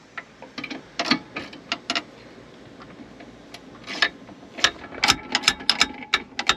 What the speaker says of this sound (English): The best way to loosen that coupler is going to be with a 7 millimeter socket.